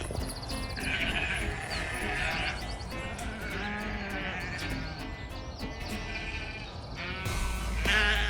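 Several sheep bleat while being herded, with repeated wavering calls at close to middle distance over a steady outdoor background. Sharper calls rise near the end.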